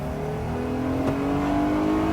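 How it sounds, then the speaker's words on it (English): A 2020 Jeep Gladiator Mojave V6 pickup accelerating hard from a standstill with wheel spin, giving a steady, loud engine drone that rises slowly in pitch, heard without talk. "I can't test just how quick it is by a quick acceleration test"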